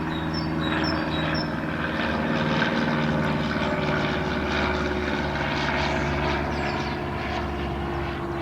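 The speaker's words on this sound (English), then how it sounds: "small light aircraft flying over" A small light propeller aircraft drones overhead under a blue English sky, a steady, moderately loud hum that swells slightly and holds for several seconds with no talk.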